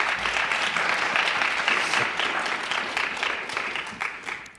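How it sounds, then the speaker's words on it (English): Audience applause at a school reading event fills the clip, steady clapping that slowly tapers off over a few seconds, with no talk. "let's go ahead and give them a round of applause anyway"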